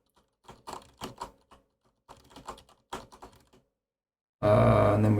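Bursts of computer keyboard typing come in quick irregular clusters of clicks with short pauses between them, followed by a sudden loud burst of broadband noise at the end.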